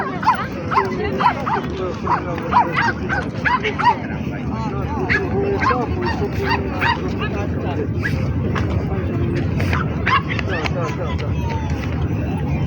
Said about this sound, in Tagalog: They're aggressive dogs.